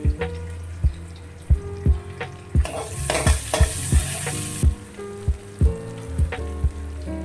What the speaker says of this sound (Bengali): পেঁয়াজটা ভালোভাবে ভাজা হয়ে গেছে, দেব 1 চামচ আদা কুচি